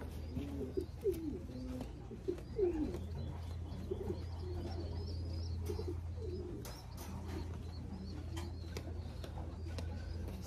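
Racing pigeon, a red check bird banded for an upcoming race, cooing in repeated soft throaty phrases, close by, over a steady low hum and faint background noise.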